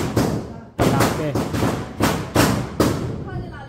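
Diwali firecrackers set off by children outside, a string of sharp, loud bangs going off one after another at uneven intervals, each followed by a brief rumbling tail.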